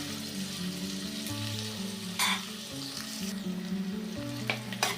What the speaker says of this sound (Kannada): ಈರುಳ್ಳಿ, ಹಸಿಮೆಣ್ಸಿನ್ಕಾಯಿ ಇದು ಸ್ವಲ್ಪ ಫ್ರೈ ಆಗಲಿ.